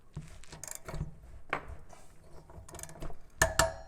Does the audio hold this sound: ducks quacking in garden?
no